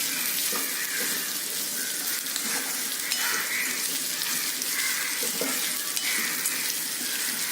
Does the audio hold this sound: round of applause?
no